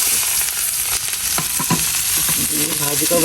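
Chopped onions and naga chilies sizzle in hot oil in a pan, cooked outdoors in the rain. A steady, loud frying hiss runs throughout, with light stirring scrapes close by.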